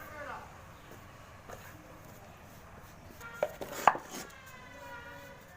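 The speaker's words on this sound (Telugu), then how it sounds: "ఒక లెవెల్గా కట్ చేసుకోవాలి." A knife cuts food evenly on a board with a few soft taps and then a sharper chop or two. The sounds are close but faint over a low background.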